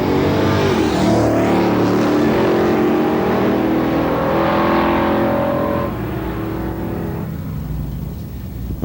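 Todd Fleck's number 29 Pro Mod drag racing car roars loudly down the strip, its engine note climbing through gears before fading away in the last seconds.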